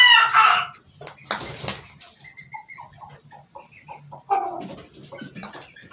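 Fancy hen being given liquid medicine by syringe, clucking and squawking in short agitated bursts with quieter murmured clucks between, close by in a quiet setting.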